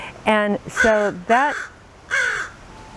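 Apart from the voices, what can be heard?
crow cawing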